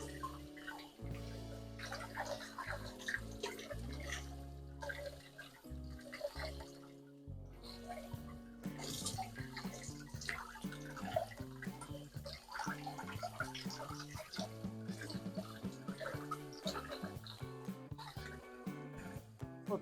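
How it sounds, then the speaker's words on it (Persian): A lamb head for traditional Iranian kalleh-pacheh being washed again, cold water splashing and pouring into a pot, quiet and close with sloshing and running water throughout. "من اینو دوباره شستمش و آب سرد دوباره ریختم توش"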